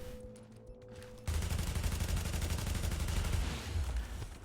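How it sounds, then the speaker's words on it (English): A sudden sustained barrage of rapid video game gunfire from a shotgunner kicks in after a quieter moment and keeps pounding loud and close to the end, no speech. "there's a shotgunner shooting at me in my back"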